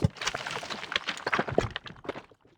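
Heavy, low crumbling rock debris sound effect pitched down an octave: a dense stream of clattering, rattling impacts that tumble on for a couple of seconds with a deep, rumbling weight.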